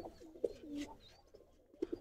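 A racing pigeon gives a few soft, low coos while held in the hand, short separate notes near the start and in a quick pair at the end, with faint handling rustle between them.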